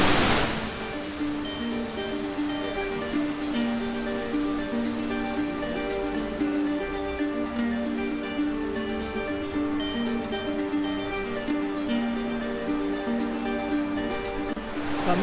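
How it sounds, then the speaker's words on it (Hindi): Steady broadband rush of a waterfall on the Tanyard Creek nature trail, continuous and close, with a faint tonal hum layered over the roaring water throughout. "ये है झरना सामने से आता हुआ"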